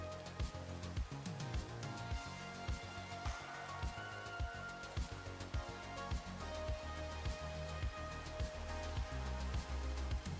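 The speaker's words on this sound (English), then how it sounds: "so it's still raining" Steady rain patters in the video game Minecraft, a dense, continuous shower of drops with small splashes throughout, fairly loud and unbroken with no talking.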